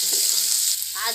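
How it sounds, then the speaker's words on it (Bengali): Fish curry being stirred as it fries in a pan, a close, loud sizzle with brief scraping and stirring movements through a short stretch, no voices. "এবার একটু নেড়ে দিব"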